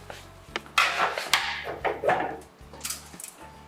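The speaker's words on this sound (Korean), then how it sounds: "적재함은 이렇게 허리를 양쪽으로 이렇게 제껴준 다음에 문을 열으시고" Side panels of the cargo bed on an EG300 electric utility vehicle are unlatched and swung open, giving a few close wooden-sounding knocks, clacks and scrapes over a low steady hum.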